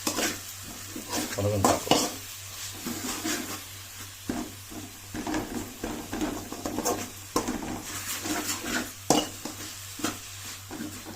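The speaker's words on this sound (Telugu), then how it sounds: "బాగా ఉల్లిపాయ బాగా వేగండి" Onions sizzle in a pan under irregular stirring and scraping with occasional metal clinks, close by, with a voice speaking briefly.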